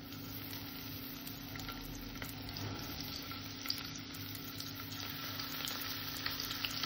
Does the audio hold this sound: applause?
no